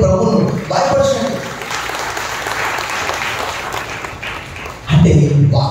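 Congregation in a church clapping loudly together, a dense sustained wash of applause with a voice speaking over it near the start and a louder burst of clapping and voices toward the end.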